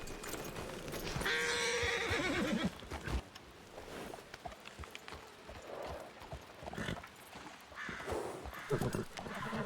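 In the RedM video game, a horse neighs and whinnies loudly and nearby, with the clip-clop of hooves and other busy game sounds throughout.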